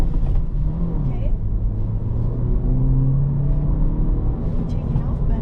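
Engine of a 2024 Honda Civic Si with a manual gearbox pulling away from a stop, a steady low rumble heard from inside the cabin, with people talking over it.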